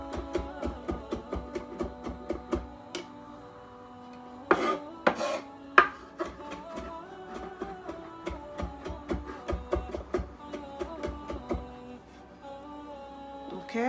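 Rhythmic knife chopping on a board while slicing ingredients for pan-grilled mutton, a quick steady series of close taps with a few louder clatters midway, no talking.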